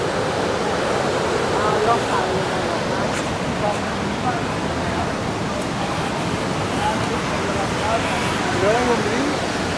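Morning waves roll onto Kuta Beach in Bali, a steady broad wash of surf heard from a beachside ledge, with faint distant voices under it.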